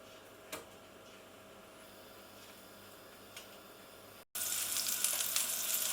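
Food frying in a pan on a home stove gives a steady low sizzle with a couple of faint clinks, then swells suddenly into a loud, bright crackling hiss for the last couple of seconds. No one speaks.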